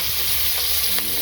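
Fish frying in a pan, a steady bright sizzle that hisses continuously and evenly at moderate loudness, with no voices over it.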